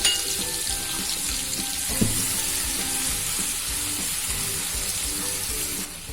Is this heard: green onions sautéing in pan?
yes